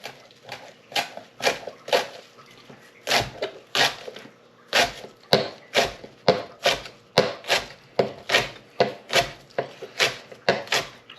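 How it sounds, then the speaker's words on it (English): Fresh basil, stalks and all, chopped roughly on a board with a knife: a steady run of crisp, close knife strikes, about two per second, with no talking. "Right guys, I'm just going to chop the basil up."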